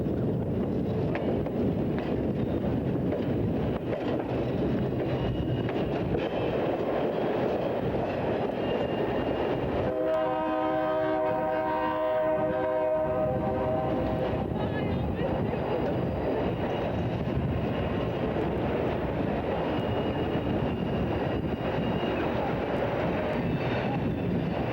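A train crosses from the Reading Company line to the Pennsylvania tracks in York on a connecting track, with a loud, continuous rumble and a sustained horn sounding midway, plus wind buffeting the microphone.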